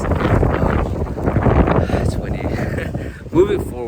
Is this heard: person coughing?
no